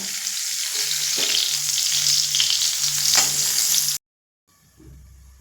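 Jackfruit chunks frying in hot oil give a loud, dense sizzle with some stirring for about four seconds, then a sudden cut to silence before a fainter sizzle returns.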